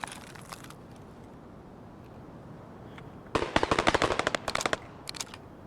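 Automatic gunfire in the video game Escape from Tarkov, a quiet stretch with a few faint pops, then a loud rapid burst of shots followed by several scattered single shots.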